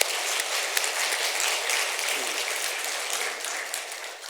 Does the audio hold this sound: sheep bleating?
no